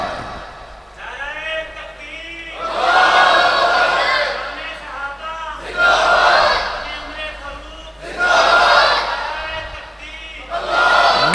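A congregation at a Friday sermon commemorating the martyrdom of Hazrat Umar Farooq chants religious slogans in loud, rhythmic waves, each swell of massed voices rising and falling in repeated bursts.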